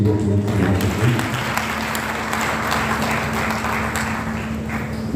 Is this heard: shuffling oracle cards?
no